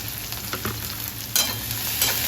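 Chopped onion drops into hot oil with curry leaves and garlic-chili paste for upma, giving a close, steady sizzle. A louder hiss flares partway through as the onion lands, with stirring under it.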